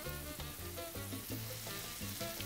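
Cuban sofrito with about a teaspoon of tomato paste and bay leaves sizzles steadily in a pan, a close, even frying hiss running throughout beneath rhythmic background music.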